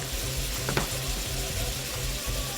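Basil chicken with oyster sauce stir-frying in a pan gives a steady, close sizzle, with a brief scrape of stirring partway through and no voices.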